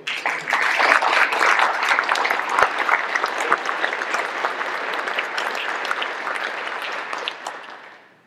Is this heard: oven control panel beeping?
no